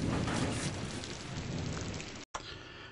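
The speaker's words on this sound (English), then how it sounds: "And it's raining." Rain ambience in the war strategy game Strategic Command: WWI, a dense even rush of rainfall with a low rumble underneath, cutting briefly to silence near the end before resuming.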